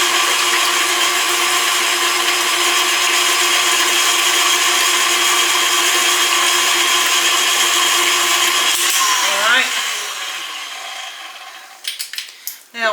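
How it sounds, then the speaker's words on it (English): Stand mixer with a dough hook working butter and egg into yeast roll dough, a loud, steady motor whine that winds down and stops near the end. "I'm using a dough hook. So let's just kind of mix this around for a second and get the egg mixed up in it."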